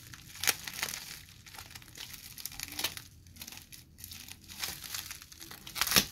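Packaging around a PCB shipment is slowly cut and pulled open, giving close, quiet crinkling and tearing with a few sharp crackles at irregular intervals and no voices.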